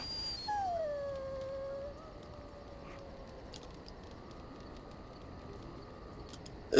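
A dog in Dragon Age: Origins lets out a drawn-out howl that slides downward, then fades into soft whimpering whines over quiet background ambience, ending with a brief louder sound.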